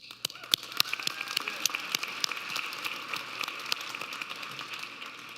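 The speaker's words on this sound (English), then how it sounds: "Y'all deserve a round of applause." A crowd at a graduation ceremony claps in a dense, fairly faint patter of many hands, with sharper nearby claps standing out and a steady, sustained level throughout.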